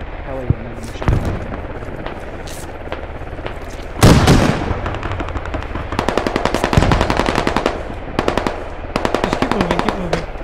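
Rapid automatic gunfire from the video game Squad, loud close bursts and long rattling strings of shots with a heavy boom partway through, while a player talks over the shooting.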